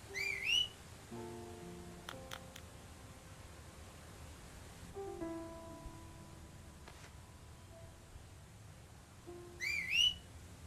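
In the Deadly Premonition video game, a character whistles at a dog with short, bright rising whistles at the start and again near the end, separated by quiet stretches with faint tones and rustling.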